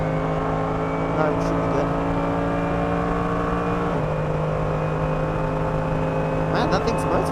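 Mercedes-AMG GT3 race car lapping the Nordschleife, a loud, steady engine drone heard from inside the cockpit with a brief shift in pitch midway, and a voice speaking over it.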